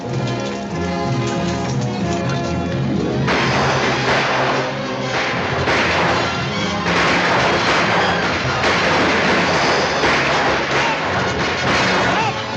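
Dense gunfire in a shootout, with overlapping rifle and pistol shots that form a loud, continuous barrage, swelling in intensity after the first few seconds.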